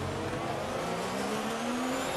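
F1 race car engines from the F1 2019 video game during an overtake, a continuous high engine whine with a rising pitch as one car accelerates past, steady and moderately loud.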